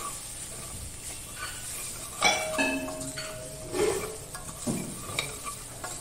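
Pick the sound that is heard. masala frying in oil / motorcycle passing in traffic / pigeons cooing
masala frying in oil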